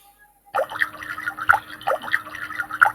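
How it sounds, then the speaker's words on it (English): Bubbling water sound effect from a Scratch game: a string of bright, wet blips and drips popping in an uneven rhythm, clear and close, with no talk. "you hear the bubble voice, right? The bubble voice of the water"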